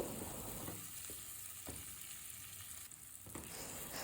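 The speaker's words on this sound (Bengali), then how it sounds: "আমি এখানে কুচি করে রাখা টমেটো দিয়ে দিচ্ছি তো টমেটো দিয়ে কিছুক্ষণ ভেজে নেব" Chopped tomatoes frying with onions in a pan, a steady close sizzle with brief stirring scrapes and no talking.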